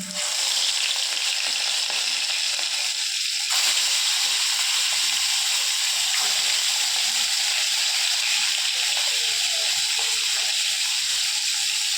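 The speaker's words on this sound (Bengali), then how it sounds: "এবার আমি মাছটা ভেজে নেব।" Fish frying in very hot oil gives a steady, loud, dense sizzle and crackle that holds evenly throughout, with no talking.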